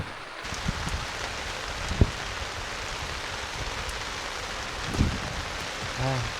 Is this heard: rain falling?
yes